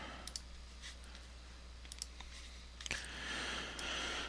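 A few soft, sharp computer mouse clicks while files are unzipped and copied on a desktop, quiet and spaced apart over faint room hiss.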